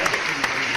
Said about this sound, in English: They're saying that applause was not for Franklin leaving.